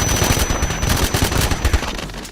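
Rapid bursts of suppressed gunfire from a silenced Sigma gun in a multiplayer shooter game, a dense run of muffled shots crackling steadily throughout with no pauses.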